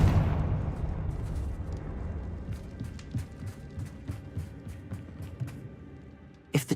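A Confringo blasting spell goes off in Hogwarts Legacy with a deep, rumbling burst that trails into a steady low roar, dotted with scattered sharp crackles and pops before a final snap.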